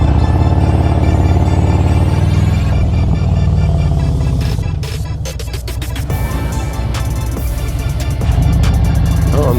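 A Harley-Davidson Road Glide motorcycle cruises along a highway, its engine a loud, steady low rumble mixed with rushing wind noise, briefly easing off and then building again.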